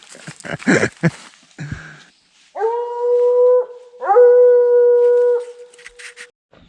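After a brief burst of scuffling noise, a dog howls twice, each long, sustained howl a steady tone held for over a second, loud and close, during a bear hunt, answered by its own echo.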